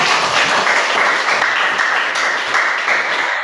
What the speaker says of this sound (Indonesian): tepuk tangan untuk teman kita bertiga